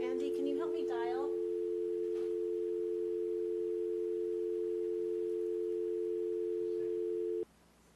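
A steady telephone dial tone rings out loud and unbroken for several seconds while someone dials into a planning commission meeting, with brief speech at the start before the tone cuts off.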